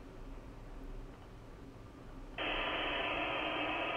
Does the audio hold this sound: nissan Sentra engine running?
no